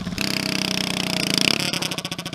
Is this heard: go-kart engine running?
yes